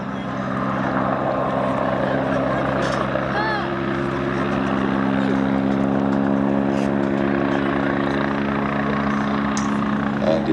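A Westland Wasp helicopter flies a display at an air festival, a steady droning engine and rotor hum with a sustained whine that holds loud and fairly near the whole time; no speech is audible.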